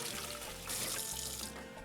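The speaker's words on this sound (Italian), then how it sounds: "Mettiamo un poco d'acqua, così" Water runs from a tap or is poured into a small jug in a home kitchen, a soft continuous splashing trickle that swells in the middle, heard alone and close.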